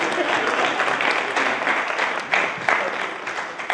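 A studio audience claps for a guest on a Portuguese talk show, a steady moderate patter of hands with a few louder bursts toward the end.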